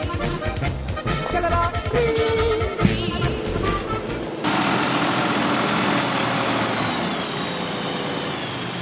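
An AGT 1060 vineyard tractor engine drones steadily throughout, loud and close, shifting to a smoother, higher-pitched running tone about halfway through.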